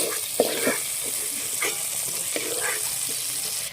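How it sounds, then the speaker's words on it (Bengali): Fried prawns sizzle in a hot pan as they are stirred and lifted out, a steady close hiss broken by scraping clinks of the utensil. "চিংড়ি মাছগুলো ভাজা করে নিয়েছি। এবার আমি তুলে নিচ্ছি।"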